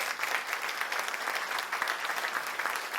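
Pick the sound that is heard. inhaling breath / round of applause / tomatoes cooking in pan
round of applause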